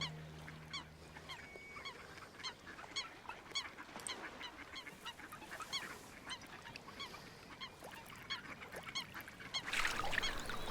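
Water birds on a Bavarian lake call repeatedly in a busy, overlapping chorus of honks and quacks, some near and some farther off, over a soft outdoor background that grows a little louder toward the end.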